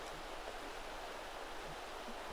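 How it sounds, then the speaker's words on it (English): A river burbles past somewhere on a hillside trek, a soft, continuous watery hiss heard faintly at some distance with nothing else over it. "you'll doze off because of the sound of the river"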